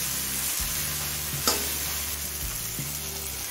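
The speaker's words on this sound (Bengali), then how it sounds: "এবার যতক্ষণ না টমেটো নরম হচ্ছে ততক্ষণ ভেজে নেব" Tomatoes sizzling in a pan for chicken do pyaza, a steady soft frying hiss with an occasional stir or clink of a utensil, no voices.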